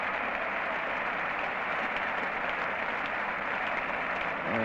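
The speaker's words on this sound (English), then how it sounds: "getting a good round of applause too from the West Indian cricketers out there" West Indian cricketers applaud at a cricket match, a steady wash of clapping that holds evenly throughout and sounds somewhat distant.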